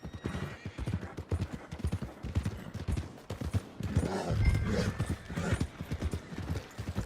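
Horse hooves clip-clopping in the Red Dead Redemption 2 video game, a busy, close rhythm of hoofbeats with a whinny and game ambience around it.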